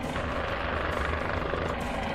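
A Guimbal Cabri helicopter in Microsoft Flight Simulator drones steadily, its dense rotor and engine noise loud and unbroken throughout, with no voices.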